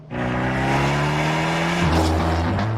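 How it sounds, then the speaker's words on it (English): A Fiat 124 Spyder Abarth revs hard through its Record Monza sport exhaust with a deep, raspy note, pitch climbing steadily then dropping at a gear change before rising again, loud and close. "make a small car produce a big car noise"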